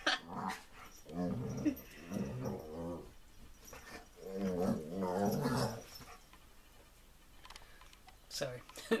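A dog growls and grumbles playfully in the morning, close and fairly loud in bursts, with breaks and a short sharp sound near the end.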